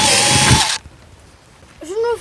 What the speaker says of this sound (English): if she saw me drilling into the Jeep